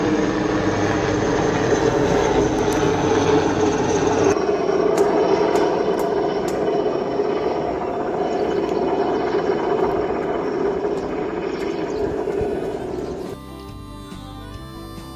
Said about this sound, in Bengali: খুব নিচে দিয়ে একটা হেলিকপ্টার উড়ে যাচ্ছে